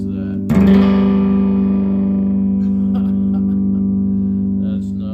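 A single strummed chord on an electric guitar, slightly out of tune, played through a Fender Bassbreaker 45 tube amp. It rings loud and full and sustains steadily for about four seconds before cutting off.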